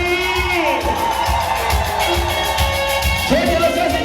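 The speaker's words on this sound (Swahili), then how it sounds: "Vigelegele kwa wazazi." Wedding guests ululate for the parents: high, warbling trills ring out loud and near over a cheering crowd and steady background music, with a fresh burst of trilling near the end.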